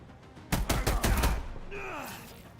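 Rapid burst of gunfire in the sci-fi action RPG The Expanse: Osiris Reborn, several sharp shots in quick succession, loud and close, then a fading whine.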